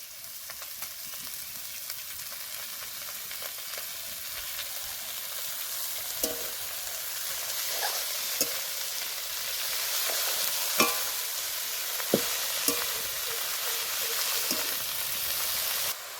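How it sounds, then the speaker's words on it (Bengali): Pumpkin leaves hitting hot oil with fried onion, garlic and dried chili, giving a steady broad sizzle with occasional crackles and pops, close and continuous throughout. "পেঁয়াজ রসুন শুকনো লঙ্কা ভালো করে ভেজে নিয়েছি এবার দিয়ে দেব শাকগুলো"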